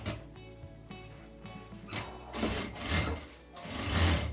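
A sewing machine runs close by in uneven surges, stitching two fabric lining pieces together right sides facing, with rubbing and fabric handling mixed in.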